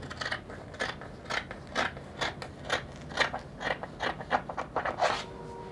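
Scissors snip through fabric while shaping the neckline of a bubu dress with a front inverted pleat, a steady series of about a dozen crisp crunching cuts, close up and clear, with no voices.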